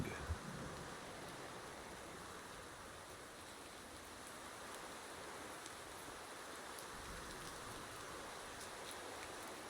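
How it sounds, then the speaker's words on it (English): Steady rain falls in an open outdoor video game scene near trees and villagers, a continuous even hiss of drops with no breaks, nearby and fairly loud, with no voices over it. "in hopes of also making the current rain go away"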